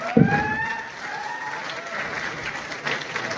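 Audience applause at a motivational success-story talk by a mobile shop owner, steady clapping filling the clip after a brief loud burst at the start, with a faint voice and some tonal noise underneath.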